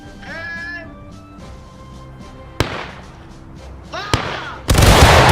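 Musket fire from a company of Civil War soldiers in the game War of Rights: two sharp near cracks and then a loud ragged volley at the end, with voices and yelling in the quieter stretch before.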